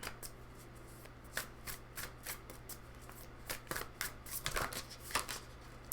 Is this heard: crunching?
no